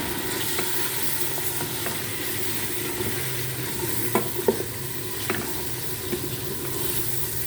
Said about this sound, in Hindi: फिर इस मसाले को थोड़ा भून लें।